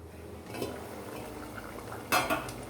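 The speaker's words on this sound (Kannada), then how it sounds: "ಮುಚ್ಚಳ ಮುಚ್ಚಿ ಒಂದು ಸ್ವಲ್ಪ ಹೊತ್ತು ಕುದಿಯಕ್ಕೆ ಬಿಡ್ತಾ ಇದ್ದೀನಿ" A lid goes onto a pot of spinach and potato gravy with a sharp metallic clatter near the end, after soft scraping and clinking of utensils over a quiet kitchen background.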